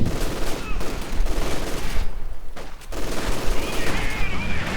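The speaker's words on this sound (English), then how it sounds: "Conscripts are definitely running into a bit of a problem with the Leicht's MG tearing through them." Dense battlefield machine-gun fire from a Leicht MG in Company of Heroes 2, loud and continuous with overlapping bursts and explosions, and a caster talking over it.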